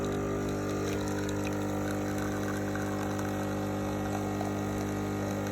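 Simplus coffee machine pumping water through on its first flush, a loud, steady droning pump hum with rushing water, continuous and close throughout.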